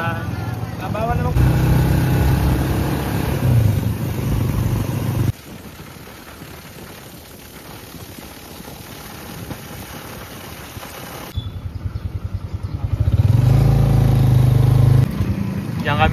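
A motorcycle engine idles nearby with a steady low rumble that drops away midway and then returns louder near the end, with people talking over it.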